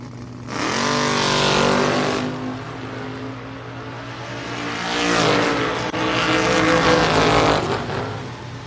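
A Dodge Charger and a 1969 Camaro launching side by side at a drag strip, their engines roaring loudly in two long surging bursts with a lull between, close and powerful.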